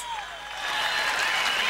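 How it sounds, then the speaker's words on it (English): An audience claps for Tiffany and Chris, a thin spread of applause at moderate distance that swells slightly over a short stretch, with a voice overlapping at the start. "What about a big round of applause for Tiffany and Chris?"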